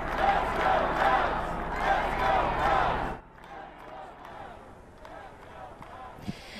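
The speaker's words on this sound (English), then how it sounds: "They were cheering." Cubs fans cheering in the stadium after the season's end, a loud, dense crowd roar for about three seconds that drops suddenly to a quieter murmur of scattered voices and distant crowd noise.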